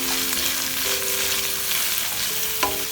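White portions of spring onions sauté in a pan, giving a continuous bright sizzle with soft stirring and a brief clink near the end.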